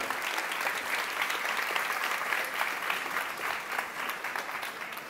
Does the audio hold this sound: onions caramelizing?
no